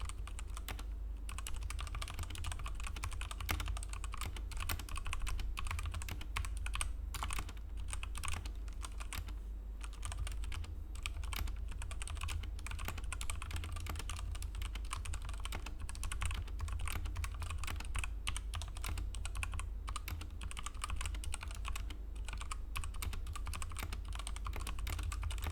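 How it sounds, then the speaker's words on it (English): Typing runs steadily on a cheap £3 Temu keyboard fitted with a tape mod, giving a continuous patter of muted, thocky keystrokes close up over a low background rumble. "That's how the keyboard sounds now"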